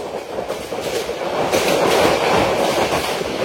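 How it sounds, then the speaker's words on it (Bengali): The Mohanagar Godhuli Express passenger train runs through Ghorashal Flag station. From on board, its wheels keep up a loud, continuous rumble with rhythmic clatter on the rails. "আমাদের ট্রেনটি এখন Ghorashal flag railway station through pass যাচ্ছে।"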